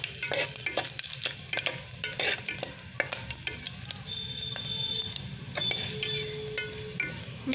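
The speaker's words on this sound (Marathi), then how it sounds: "लसूण लालसर झाल्यावरती यात आपण घालणार आहोत खडा मसाला." Whole spices frying with garlic in hot oil, a steady close sizzle and crackle with stirring scrapes throughout, plus a few faint high beeps partway through.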